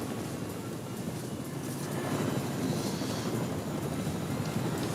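A helicopter in a video game drones as a broad, steady engine roar with a faint rhythmic rotor texture, swelling slightly louder partway through and holding constant.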